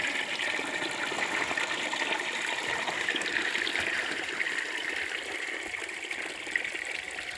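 Water runs steadily into a cattle drinking tank, a constant gushing, splashing rush with no pauses, heard up close and alone.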